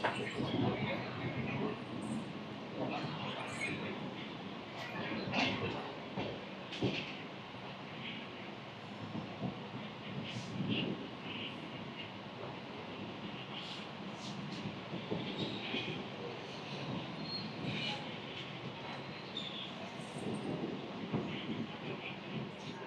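The 16103 Pamban Express runs on rails near Chennai and Tirupati with a steady, broad rumble and rattle throughout. Occasional clacks and louder surges punctuate a continuous train noise, and faint voices sit underneath.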